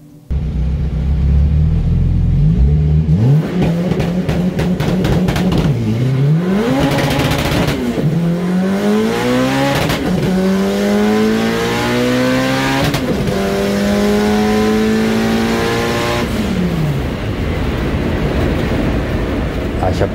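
An 803 hp turbocharged Opel Corsa A race car idles roughly, then launches hard, its engine climbing through rapid screaming upshifts with brief drops between gears, very loud and close throughout.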